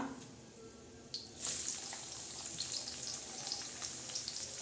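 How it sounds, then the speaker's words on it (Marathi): Cumin seeds hit hot oil for tempering in a stuffed okra dish with peanut powder, and a sudden hiss swells into a steady, close, bright sizzle that continues to the end. "आता याला छान असा तडका बसत आहे जिऱ्याचा"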